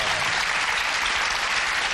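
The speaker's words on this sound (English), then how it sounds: "Oh, you guys will applaud anything" Studio audience applauding on a talk show, a dense, steady wash of clapping filling the whole stretch at even loudness with no pause.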